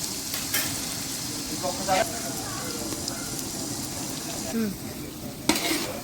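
Turmeric being stirred into a simmering tomato and tamarind curry over a large stove, a steady loud bubbling sizzle with a few spoon scrapes and knocks, voices faintly present beneath.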